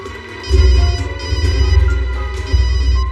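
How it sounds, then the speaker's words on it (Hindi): A mobile phone rings nearby in a repeating ringtone pattern, loud and clear, with short pulses of the tone rising and falling over a few seconds. "देखिए तो बज रही है सर फोन"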